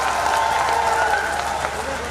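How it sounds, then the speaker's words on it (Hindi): Applause from a crowd at a BJP election campaign rally in Azamgarh, a steady wash of clapping and crowd noise that holds for about two seconds, with a voice carrying over it. "इसके लिए भी एक जोरदार ताली होनी चाहिए"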